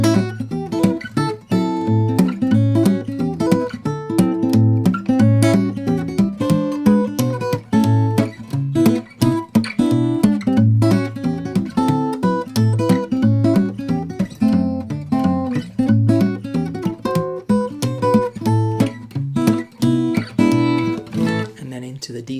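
Fingerstyle guitar plays the C section of a song, with busy plucked melody notes over a steady bass line. It sounds close and continuous for over twenty seconds with no talking.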